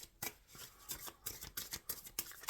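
Animal oracle cards being shuffled by hand, a run of quick crisp riffling and sliding bursts in uneven rhythm, close and fairly quiet with no talk.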